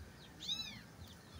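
A cat meows once on a rural farm, a single clear, close cry rising and falling in pitch over low background noise.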